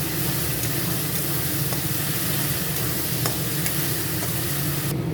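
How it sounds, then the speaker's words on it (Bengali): Mustard seeds and green chillies fry in oil for a fish curry, making a continuous, close hiss and crackle. Faint stirring ticks run through it, and the sizzle stays unbroken with no talk. "এখন শস্যগুলি ভেজে নেব"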